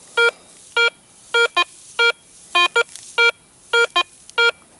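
A Garrett Ace 350 metal detector gives its target tone over a nickel: a series of loud, sharp electronic beeps, some single and some paired, repeating at an uneven rhythm with quiet gaps between them.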